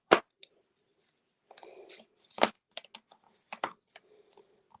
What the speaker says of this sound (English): we're going to come in with our bone folder again, and we want to get really good creases on there